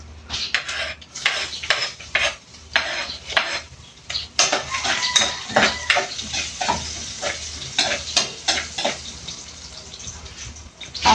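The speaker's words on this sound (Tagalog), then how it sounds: "mainit na guys at magigisa na tayo bawang tsaka sibuyas" Garlic and onion sauté in hot cooking oil, a constant sizzle broken by frequent loud scrapes and clangs of a metal spatula against the pan, close up and busy throughout.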